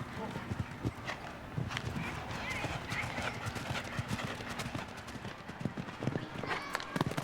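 A horse's hooves pound the arena turf during a show jumping round at Spruce Meadows. The rhythmic thuds of the canter sound close and steady beneath a commentator's continuous talk.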